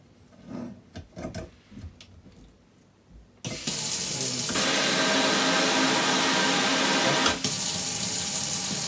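A touch-sensor kitchen faucet turns on after a few quiet handling clicks, and a steady, loud stream of water rushes into the sink for several seconds with a brief bump near the end.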